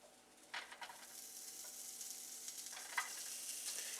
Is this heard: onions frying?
yes